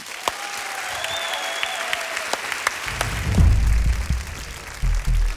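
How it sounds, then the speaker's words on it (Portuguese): A studio audience at a Voice Portugal blind audition claps steadily for a contestant, with a few thuds and a low rumble joining near the end. "Um grande aplauso para o Luís"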